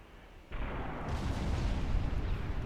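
Naval artillery volley in the warship game Ultimate Admiral Dreadnoughts: a sudden heavy boom that swells into a sustained rolling roar of gunfire, loud and close, with no voices.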